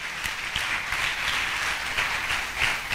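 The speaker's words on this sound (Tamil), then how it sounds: "நல்லா கைத்தட்டி கத்திர மயம் படுத்துங்க பார்க்கலாம்" Audience at a church convention applauding, a steady, dense wash of clapping from many hands that holds evenly throughout, loud and fairly close, with no talk over it.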